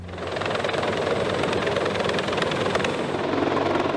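A Sikorsky CH-53K military heavy-lift helicopter flies close by with a loud, steady rotor thump and turbine roar that holds throughout without any talk.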